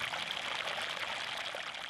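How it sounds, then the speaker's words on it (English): Water gushes steadily from a broken city water pipe in Houston, a continuous loud pouring rush with no talk over it. "you just see all this water just pouring out of that leak"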